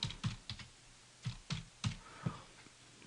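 Quiet keystrokes on a computer keyboard, a handful of separate soft taps spaced irregularly, close and faint with no voices.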